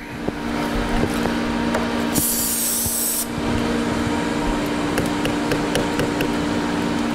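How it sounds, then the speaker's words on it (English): Silver Streak lubricant is sprayed onto wire rope in one hissing aerosol burst of about a second, close and loud, over a steady mechanical hum with scattered clicks. "and then spray silver streak on it"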